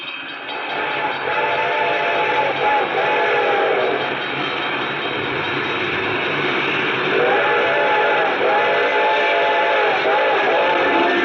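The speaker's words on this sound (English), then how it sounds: "I could hear its bell ringing and the cry of its whistle" A train rumbles steadily and loudly while its whistle blares in long sustained blasts, pausing briefly before sounding again.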